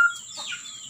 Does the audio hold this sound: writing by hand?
no